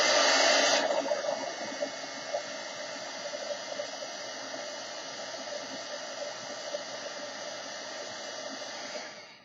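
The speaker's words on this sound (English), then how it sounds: "So mind the heat gun" A heat gun blows steadily on coffee filter flowers saturated with spray, a loud continuous whooshing roar that starts strong, settles into an even rush for several seconds, then cuts off.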